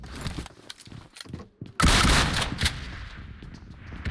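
Video game gunfire: scattered sharp shots and rustling early on, then a loud burst of rapid fire at close range, followed by trailing echoing shots.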